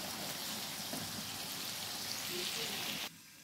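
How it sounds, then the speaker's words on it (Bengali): Katla fish frying in oil in a pan gives a dense, steady sizzle and crackle, close and fairly loud, that cuts off abruptly near the end. "এখন আমি কাতলা মাছটা ফ্রাই করে নিলাম।"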